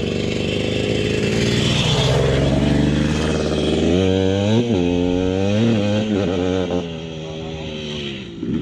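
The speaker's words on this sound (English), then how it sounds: "That's a two-stroke for sure." A two-stroke dirt bike engine revs hard up close during an off-road ride, its pitch climbing and wavering through repeated throttle blips before easing off at the end.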